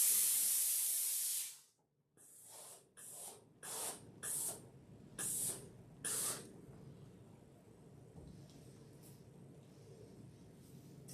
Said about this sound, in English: I'm going to start pressing this block, and I'm going to give it a really good press